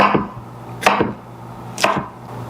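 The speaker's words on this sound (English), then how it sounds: "Then I'll turn it the other way and make slices." A knife cuts through pineapple spears on a cutting board with three crisp chops, evenly spaced and close by, with no talking.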